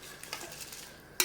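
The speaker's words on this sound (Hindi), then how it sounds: "इसमें हम चावल डाल देते हैं।" Rice goes into a pot of boiling water and gets stirred, with a faint bubbling simmer, a few soft scrapes and a sharper clink near the end.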